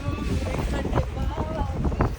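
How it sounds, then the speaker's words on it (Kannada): Strong wind on a hillside buffets a handheld phone microphone with low, gusty rumbling and roaring, while someone talks over it. "ಕೇಳಿಸಲ್ಲ ಏನು, ಗಾಳಿ ಇದೆ ಗೈಸ್"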